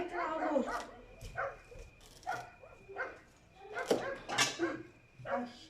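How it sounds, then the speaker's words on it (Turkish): A dog barks in short repeated bursts, fairly close and moderately loud, spaced irregularly across several seconds, with occasional yips and a whimpering quality, in a home kitchen setting. "Yok köpek gelmiş."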